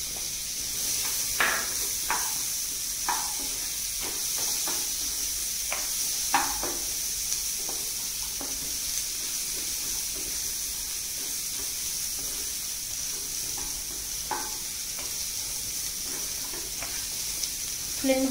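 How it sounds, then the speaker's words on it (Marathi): Two chopped onions sizzle in a pan over high flame for butter chicken, a steady close hiss with occasional stirring scrapes and clicks, no speech. "कांदा थोडासा परतून घ्यायचा."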